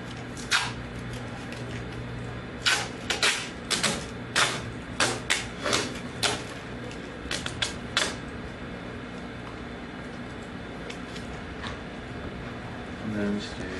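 Duct tape ripped off the roll while making a wallet, a series of short, sharp tearing rasps in quick bursts over a steady background hum, with a person talking between pulls.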